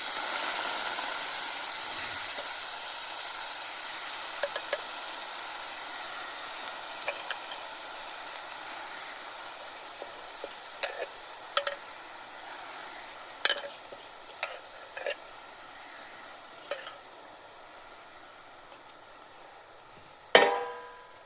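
Spring onion greens fry in a pan over a wood-fired stove, a soft steady hiss with scattered stirring scrapes and clinks, and a sharper knock near the end, with no talking.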